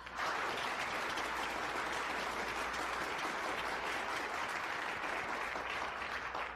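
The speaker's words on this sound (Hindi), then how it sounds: "तालियों से स्वागत कीजिए टीम 235 का।" A studio audience at a televised debate competition gives a steady, dense round of applause to welcome a team. The clapping is moderately quiet and continuous throughout.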